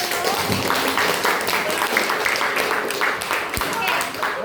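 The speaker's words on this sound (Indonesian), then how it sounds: "Tepuk tangan dulu." A classroom of students claps together in a dense, moderately loud burst, with voices mixed in under the applause.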